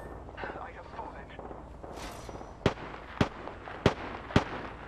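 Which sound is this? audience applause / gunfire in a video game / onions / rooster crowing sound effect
gunfire in a video game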